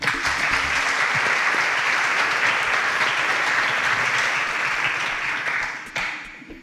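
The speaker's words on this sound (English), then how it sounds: "please a round of applause for Ezenwa and Dabira" Audience applause for contestants on a televised competition show, a dense sustained wash of clapping from a crowd that holds steady for about six seconds, then tapers off near the end.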